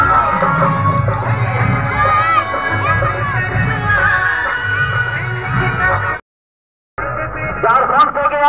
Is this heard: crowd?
yes